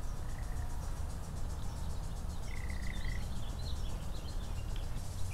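Birds sing outdoors in a backyard setting, with a few short chirps and a brief trill standing out over a steady hiss of insects and ambient noise, fairly faint and distant.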